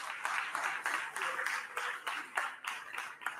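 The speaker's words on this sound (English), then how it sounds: "A big round of applause" Scattered applause from an audience at a Jamaican public event, a patchy run of claps that rises and dips over a few seconds at moderate distance, with no talking over it.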